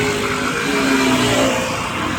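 Many motorcycles ride past on a road, giving a steady, dense drone of mid-pitched engines with rising and falling whines and a continuous wash of traffic noise.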